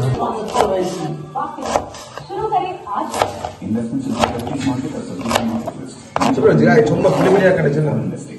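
Chili, tomato, onion and capsicum are chopped on a board for chili parotta, giving rapid, sharp knife taps close by, while a person talks over them almost the whole time.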